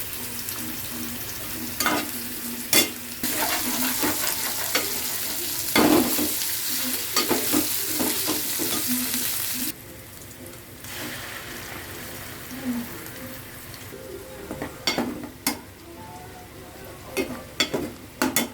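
Spiny gourd curry frying in a pan with curry leaves and garlic, a steady close sizzle broken by repeated scraping stirs, the sizzle dropping somewhat after the curry leaves go in.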